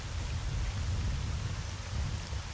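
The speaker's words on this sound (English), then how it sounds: "Oh, it's thunder, that noise, now I realize." Steady rain hisses down with a low rumble of thunder underneath during stormy weather in the video game S.T.A.L.K.E.R., a dense, continuous wash of sound with no speech.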